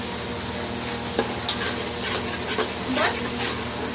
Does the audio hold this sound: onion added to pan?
yes